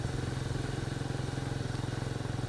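A Benelli single-cylinder motorcycle engine thumps steadily nearby, a rapid, even, throbbing pulse with a mechanical clatter on top.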